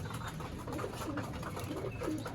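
Pigeons cooing in a loft, soft repeated coos close by over a quiet background hum.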